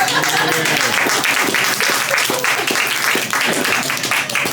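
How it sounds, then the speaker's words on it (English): Sustained applause from the audience at a spoken word poetry event, dense, loud clapping throughout with scattered voices and cheers mixed in. "Clap it up for Mackenzy one more time."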